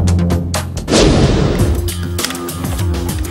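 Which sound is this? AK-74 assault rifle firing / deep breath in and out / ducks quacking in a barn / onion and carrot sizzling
AK-74 assault rifle firing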